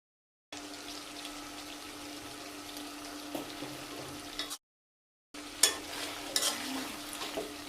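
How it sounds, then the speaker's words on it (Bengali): Chicken frying with onion in a pan at home, a steady close sizzle with occasional stirring scrapes, cut by a short silent gap before the sizzling resumes. "চিকেনটাকে আমি এখানেই ভাজা ভাজা করে নেব পেঁয়াজের সাথে"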